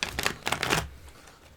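Magic: The Gathering cards are shuffled in a quick riffle of about three bursts of soft papery clicking during a Commander game, then fading to quiet; close and fairly faint, with no talk.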